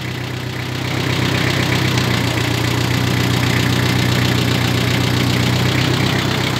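A Mitsubishi tractor fitted with a front loader idles steadily nearby, its low, even engine rumble carrying a faint knock and holding at a constant level for the whole stretch.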